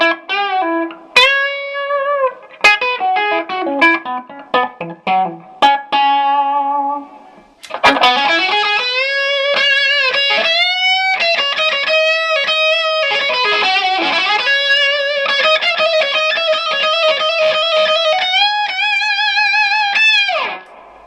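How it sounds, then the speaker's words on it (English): Electric guitar notes played through an overdriven Marshall YJM 100 amp, first as separate plucked notes, then a sustained distorted melody with lingering reverb tails. "give you an idea of what the reverb sounds like on the overdriven sound and on the clean sound"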